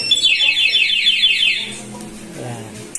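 A motorcycle anti-theft alarm on a Sniper 155 gives a loud warbling electronic siren for over a second, then fades as a voice speaks briefly near the end.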